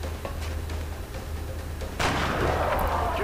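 A gunshot fired at an enemy in the XCOM video game lands as one loud, sharp blast and stays close and heavy against a steady low game hum.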